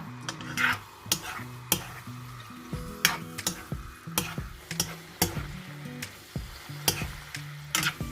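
Thin slices of beef stir-fried in hot oil for a basil beef dish, with a continuous close sizzle punctuated by sharp, regular spatula taps and scrapes against the pan, no voices.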